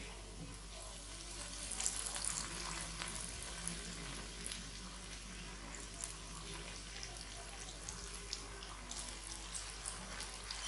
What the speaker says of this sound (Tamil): இப்போ நம்ம சமோசா எண்ணெயில் பொரிக்க ஆரம்பிக்கலாம்.